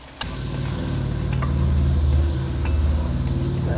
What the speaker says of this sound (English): Getting a little browning on the sausage.